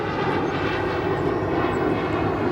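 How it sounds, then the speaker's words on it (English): Steady, loud jet engine roar from a four-year-old China Southern Cargo Boeing 777 freighter arriving on the runway at O'Hare Airport, a continuous broadband rumble with no talk. "China Southern Cargo Boeing 777 freighter, arriving in."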